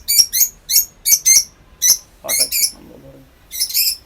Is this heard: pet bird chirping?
yes